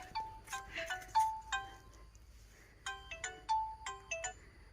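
A mobile phone out in a farm field plays a bright electronic ringtone melody, a short tune that stops and then repeats after a brief pause.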